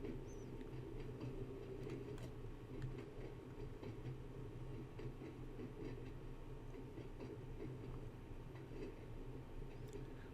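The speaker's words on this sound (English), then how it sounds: "So I've currently got the train coasting." A train coasting on the Isle of Wight line between Shanklin and Ryde Pier Head in Train Sim World 2, producing a continuous low rumble with faint rhythmic rail clicks, steady and moderately quiet, with no voices.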